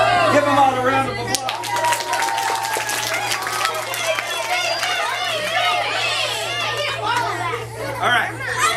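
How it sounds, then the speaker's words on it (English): Elementary schoolchildren in a classroom clap for their teachers, a dense patter of small hands mixed with lively chatter and excited kids' voices throughout. "Give them all a round of applause."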